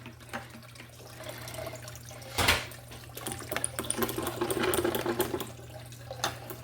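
A siphon hose draws water out of a fish tank during cleaning, giving a continuous gurgling, trickling flow with one brief louder slurp partway through and a low steady hum beneath.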